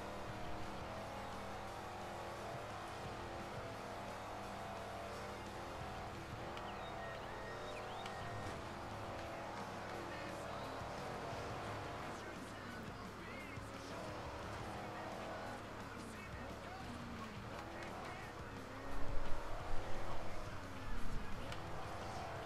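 Race cars in the video game Forza Horizon, engines droning and revving steadily at moderate loudness, with a louder burst of acceleration near the end.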